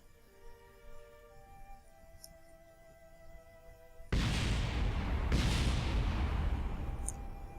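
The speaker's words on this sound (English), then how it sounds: "Explosions galore, and of course I missed it" Rocket explosions in Kerbal Space Program: after a stretch of quiet synth tones, a sudden loud blast erupts into a sustained roaring rumble with a second burst soon after.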